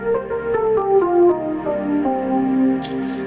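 A scale in the Dorian mode is played as a run of distinct sustained notes, one after another over a few seconds, clear and alone.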